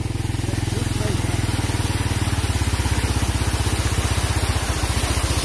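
A motorbike engine idles close by at night on Đán Dầu peak during heavy rain and a flash flood, with a steady, rapid putter that holds even throughout, over a background hiss.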